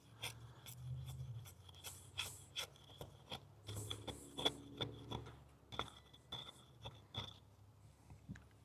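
Shieldon Tranchodon large folding knife shaving strips and curls from wood, giving a run of short dry scraping rasps in uneven bursts, close and fairly quiet, with no talking.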